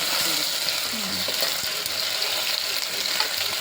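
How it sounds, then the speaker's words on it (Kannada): A paste of garlic, coriander and mint fries in hot oil on a high gas flame for mutton gravy, giving a loud, steady, close sizzle with crackling throughout. "ಅದು ಚಲೋ ಫ್ರೈ ಮಾಡಿ ಗ್ಯಾಸ್ ಫಾಸ್ಟ್ ಇಟ್ಟೆ ಫ್ರೈ ಮಾಡಬೇಕು"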